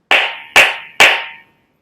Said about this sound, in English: So a palma fuerte or a palma clara sounds like this.